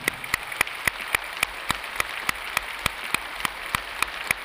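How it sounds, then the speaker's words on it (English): A group claps in a steady, evenly spaced rhythm of sharp, fairly close hits, about four per second, over a soft background hiss. "stop fake clapping and walk around normally"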